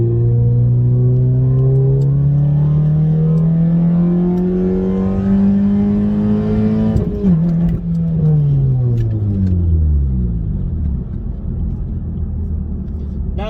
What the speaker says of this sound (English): do a 3rd gear pull right here.